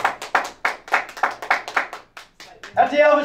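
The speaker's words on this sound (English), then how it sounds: "Ladies and gentlemen, a big round of applause" Rhythmic clapping from guests at the Elvis Chapel in Las Vegas for couple Rich and Sarah celebrating their marriage, a quick steady beat of claps close by, ending as a voice or music starts.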